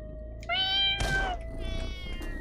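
Cats in the video game Catmaze let out two loud, close meows in a row, then a fainter drawn-out mew, with no one speaking over them.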